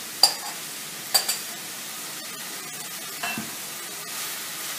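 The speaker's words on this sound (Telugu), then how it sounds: "2-3 మినిట్స్ స్టర్ ఫ్రై చేసి" Millet stir-fried with beans and carrot in a pan, a faint steady sizzle broken by a few sharp scraping clatters of the spatula, close up with no talk.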